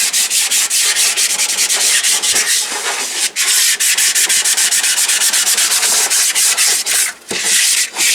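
Cast iron is scrubbed by hand with 220 grit sandpaper in fast, rhythmic rasping strokes, loud and close, with a couple of brief pauses.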